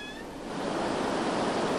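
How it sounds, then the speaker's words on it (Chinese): Roaring water at Shigang Dam, a loud, dense rush that swells within the first half second and then holds steady, with a faint high squeal at the very start. "轰隆隆的水声展现出石冈水坝的大气"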